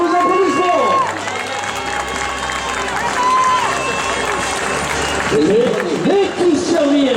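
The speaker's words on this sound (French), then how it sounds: "tous vos applaudissements" Crowd applause and cheering at the finish of a 21 km running race, a steady roar of clapping under a loud announcer's voice booming over the speakers.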